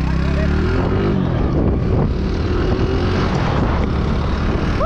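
A motorcycle engine runs loud and close with a steady low rumble through the whole stretch, outdoors among a group, with voices mixed in.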